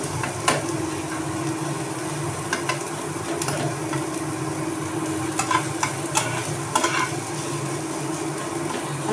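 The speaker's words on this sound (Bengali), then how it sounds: "পেঁয়াজগুলোকে একটু ভাজা ভাজা করে নেড়ে নেবো, একটু হালকাভাবে।" Sliced onions frying lightly over low gas in a pan, a steady sizzle broken by repeated scraping stirs, alone with no talking, during pizza preparation.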